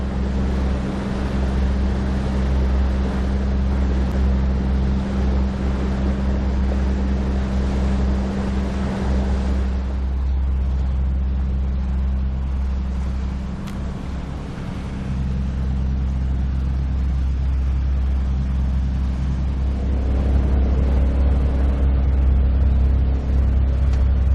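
A boat engine drones steadily throughout on Kingcome Inlet, British Columbia, low and continuous, with wind and water rushing over it and no talking.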